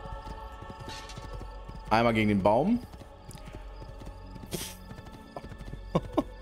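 Horse hooves in the PS5 game Assassin's Creed 2 keep up a steady clip-clop, with a short neigh near the middle, while someone talks in German over them.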